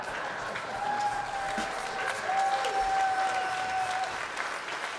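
Moderate applause from a concert audience after an orchestra's encore, a steady wash of clapping for about five seconds with a faint tonal hum running underneath.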